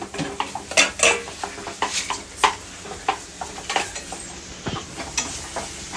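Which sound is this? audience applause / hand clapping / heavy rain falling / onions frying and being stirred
onions frying and being stirred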